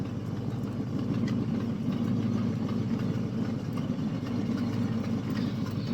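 A 1977 Pontiac Firebird engine runs steadily at a low rumble through a test drive, a continuous mid-low drone with no voices over it.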